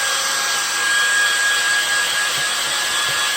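A hair dryer blows steadily over freshly screen-printed ink on a t-shirt, a loud continuous whooshing hiss with a faint high whine running throughout, no voices.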